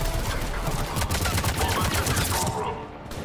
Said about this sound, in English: I heard a turret.